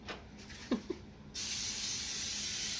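Cooking spray hisses onto a waffle iron for a sweet potato, flax and oatmeal batter, a loud steady spray starting abruptly after a few faint clicks and continuing to the end.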